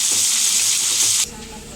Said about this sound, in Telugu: ఇప్పుడు ఈ ముక్కలన్నీ ఒక 10 నిమిషాల పాటు మీడియం ఫ్లేమ్లో అయితే మనం కుక్ చేసుకుందాం.